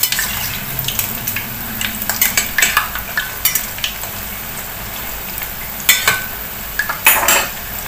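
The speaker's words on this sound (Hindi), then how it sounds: "अब मैं इसको हिलाती हूँ, ये ऊपर आ गए बिल्कुल भी, आपको खाली चमचे हिलाना पड़ेगा" Bhajiya fritters fry for kadhi while a spoon stirs them, with a continuous close sizzle broken by repeated scraping strokes and sharp metal clinks against the pan.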